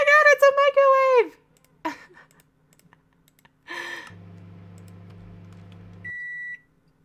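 Microwave oven running with a steady low hum for about two seconds, ending in a short electronic beep, after a voice and a few clicks earlier on.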